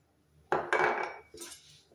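Two egg yolks with cornstarch whisked in a bowl, heard as a few sharp clinks and scrapes of utensil against the bowl, quiet and close with pauses between strokes.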